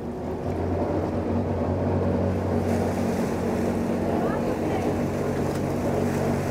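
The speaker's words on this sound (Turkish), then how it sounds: "Şimdi stern thruster'la, bow thruster'la, birazcık da makinamızla teknemizi kaydırmaya çalışıyoruz." Superyacht's stern and bow thrusters working alongside the engine to push the boat sideways, a steady low mechanical rumble and hum with wind and water noise around it.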